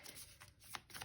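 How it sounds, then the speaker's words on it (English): A deck of tarot cards riffles in several quick, soft bursts of crisp papery flutter, close and quiet with no talking. "I'll shuffle 2 more times."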